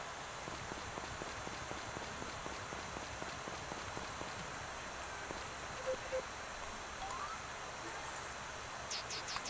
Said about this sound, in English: it is raining today